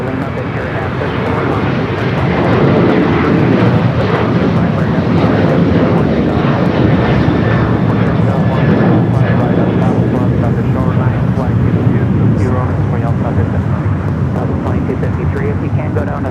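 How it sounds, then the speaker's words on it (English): A United Boeing 737-900ER jet roars steadily through its takeoff run at Los Angeles International Airport, loud and sustained with broadband engine rumble, while people talk over it. "Next thing off is 737-900ER heading to Denver, flight 2061 with United."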